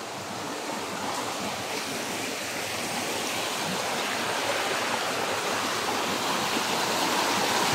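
Stream water flows steadily through a forest, a broad continuous rushing that slowly grows louder, with no voices.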